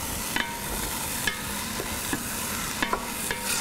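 Finely diced tomatoes with pureed ginger cook down in a pan, a steady sizzle broken by scraping and stirring clicks at irregular intervals, close up with no talk.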